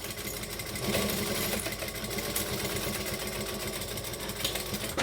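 A sewing machine runs continuously, stitching fabric with a fine 1/8-inch seam, its dense mechanical whir steady and close throughout with no voices.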